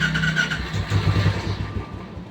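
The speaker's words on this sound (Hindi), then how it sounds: "यहाँ से थोड़ी रेस बढ़ाएं जिससे गाड़ी स्टार्ट हो जाए।" Royal Enfield Classic motorcycle engine catching and firing with the throttle raised, a short burst of rough, close engine rumble that builds then fades, no voices.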